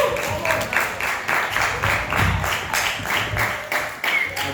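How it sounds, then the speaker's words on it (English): Audience at a poetry performance claps in a pulsing, somewhat rhythmic round of applause, moderately loud and continuous throughout. "Give one more round of applause"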